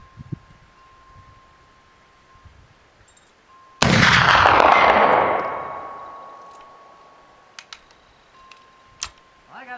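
A single loud, close gunshot from a rifle firing 500-grain bullet rounds cracks sharply and rolls off in a long decaying echo, followed by faint clicks and handling noise.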